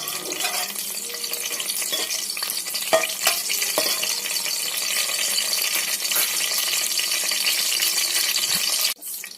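Garam masala fries in hot oil with a dense, steady sizzle that runs loud and continuous, with a few faint clinks, before cutting off sharply near the end.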